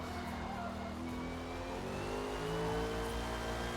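Race car engine held at full throttle in Forza Motorsport on the Silverstone circuit, a steady loud droning roar with rising pitch throughout, no pause and no talk.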